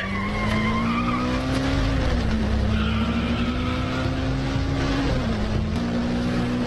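Vehicles race at speed in a chase, a continuous loud roar of engines with rising and falling tire squeal throughout, dense and close with no pause.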